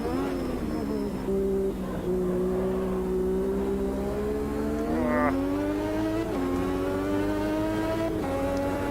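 V6 turbo Formula One engine in Automobilista 2 at Bathurst, revving hard in a loud raspy climb with several quick upshifts breaking the rising pitch, a short high rev spike midway, close and without talk.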